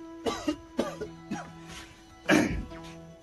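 A man coughs in several short harsh bursts, close and fairly quiet, with a louder cough near the end against a faint steady hum.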